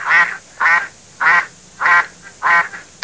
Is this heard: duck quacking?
yes